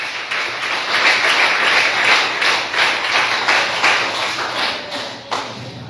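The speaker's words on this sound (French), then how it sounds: "Applaudis mon Dieu pour ça." A church congregation applauding, a dense, sustained clapping that rises and falls in waves, fairly close and loud throughout.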